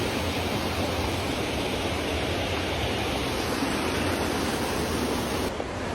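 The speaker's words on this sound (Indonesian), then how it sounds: "Kalian dapat salam dari air terjun." A hidden waterfall at the Aceh–North Sumatra border roars as a steady, loud, unbroken rush of falling water, with no talk over it.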